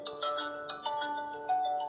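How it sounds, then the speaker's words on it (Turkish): A Wiwu SW-01 Pro smartwatch plays a bright electronic ringtone, a repeating melodic chime pattern, clear and close, with no voices. "zil seslerini ayarlayabiliyorsunuz."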